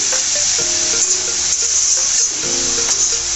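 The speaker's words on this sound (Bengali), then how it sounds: "শুধু তেল দিয়ে ভাজতে হয় ফুলকপির" Cauliflower frying in oil in a home kitchen, a loud steady sizzle and hiss with occasional stirring scrapes, close and continuous with no talking.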